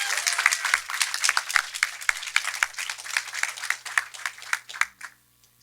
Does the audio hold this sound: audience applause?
yes